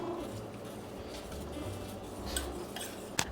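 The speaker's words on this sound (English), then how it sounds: "we are going to mix until our chocolate dissolves" Chocolate chips and vanilla extract being stirred into a warm ganache mixture for chocolate cupcakes, a steady soft scraping and clinking of a utensil against the bowl, close and continuous, with a brief sharper clink near the end.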